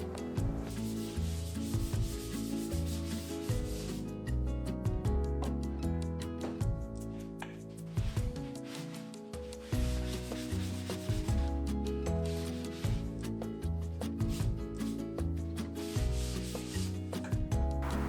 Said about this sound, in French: à la main avec une petite cale à poncer pour retirer les petits derniers des affleurs par-ci par-là